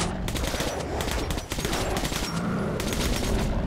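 Dense, continuous gunfire from a Metro Last Light Redux firefight, with rapid automatic bursts layered over one another, loud and close, running almost without pause and briefly dipping once midway.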